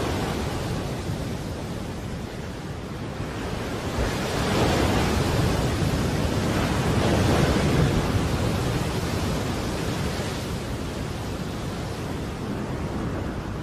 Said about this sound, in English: Christmas Island has caught the edge of a full-blown tropical cyclone.